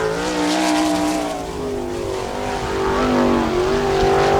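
Sprint car on a dirt oval at Attica, Ohio, roaring loudly and steadily through a timed lap, the engine note rising and falling with throttle as it circles close by, with no talk.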